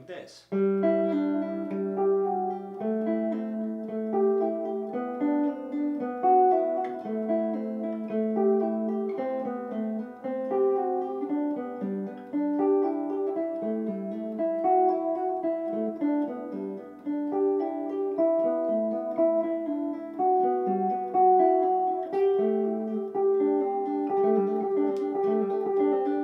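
A guitar plays a melodic pattern across the fourth, third and second strings against a sustained note, with clear plucked notes ringing in a steady flowing sequence, close and alone.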